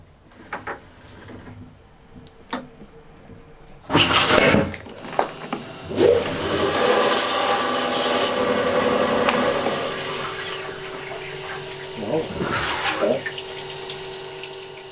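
A saw cuts through an agate nodule with a loud, watery rushing hiss that swells and holds steady for several seconds, then fades with a few clanks and knocks around it.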